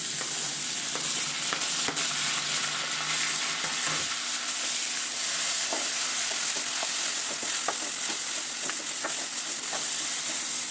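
Onions and tomato fry in a pan for green egg masala, producing a steady, close, fairly loud sizzle and hiss that runs without pause.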